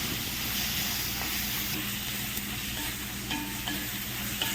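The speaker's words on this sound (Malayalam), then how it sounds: "തുറന്നിട്ട് വീണ്ടും നമ്മൾ നല്ലപോലെ ഇളക്കി കൊടുക്കാം" Onions and masala frying in a pan for beef roast while being stirred, giving a steady, close, dense sizzle and hiss with light scraping throughout, and no voices.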